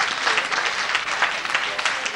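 A short burst of steady clapping from a crowd on a cruise ship, moderately loud and continuous throughout.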